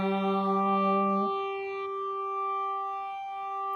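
Two steady, close electronic tones sound together, their combined tone slowly swelling and fading in a gentle wavering pulse.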